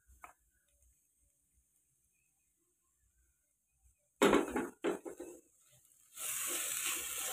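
Beans and tomato stirred in a cooking pan: after a long near-silent stretch, a few loud scraping bursts of spoon against pan, then a steady close sizzle.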